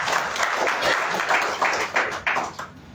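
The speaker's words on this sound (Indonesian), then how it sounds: "Beri tepuk tangan yang meriah buat ini." A church congregation gives a round of applause during a Sunday service, a steady dense clapping that comes in rolling waves before tapering off at the end.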